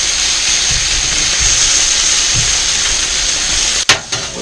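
Hash browns fry in oil in a pan with a loud, steady, close hiss and sizzle that runs throughout, ending with a sharp clunk and a brief scrape.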